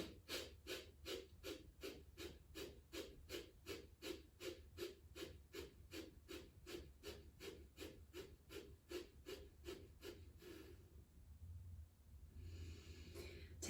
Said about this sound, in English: We're going to take some breath of fire here.